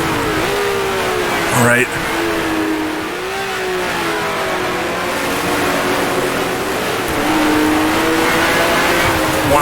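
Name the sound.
1966 F1 race car engine shifting up to fifth gear, video game Grand Prix Legends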